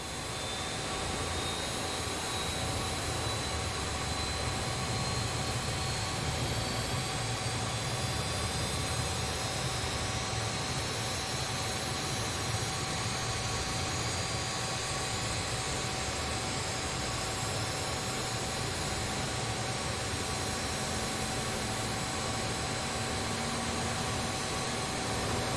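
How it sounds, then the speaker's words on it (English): Jet engines spooling up during engine start on a BAe 146 airliner in a flight simulator, a constant broad roar with a steady high whine running unbroken throughout, no voices. "All good engine starts"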